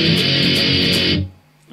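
An overdriven electric guitar plays the closing of a song's chorus. It rings for just over a second, then stops abruptly into near silence.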